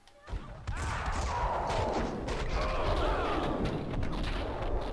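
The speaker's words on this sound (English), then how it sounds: "Someone must have heard the gunfire." Gunfire in a video game set against Russian enemies: dense, loud bursts of shots and heavy booming thuds follow one another almost without pause for several seconds after a brief quiet start.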